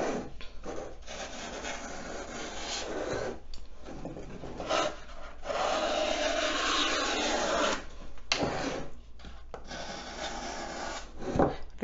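Floral foam for a summery fish-themed decoration is pressed into place and its edges are trimmed. The result is close, gritty rubbing and scraping in several long bursts, broken by brief pauses, with no voices.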